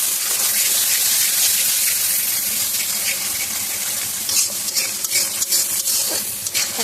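A spice paste with turmeric and salt fries in a pan for a prawn and taro-flower dish, giving a loud hissing sizzle, then a run of wet, rhythmic stirring scrapes toward the end.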